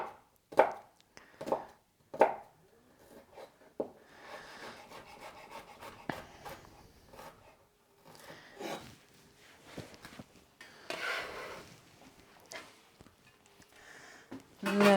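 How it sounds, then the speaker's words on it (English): Knife chopping a couple of garlic cloves on a board, a scattered series of sharp close taps and scraping strokes, some in quick bursts and others spaced apart. "So just a couple of cloves and I'll just quickly work through that"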